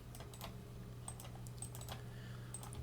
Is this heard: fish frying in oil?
no